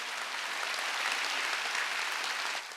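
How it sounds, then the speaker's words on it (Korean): A church congregation at a Wednesday worship service claps together in a dense, even burst of applause that holds steady, then drops off abruptly near the end. "박수."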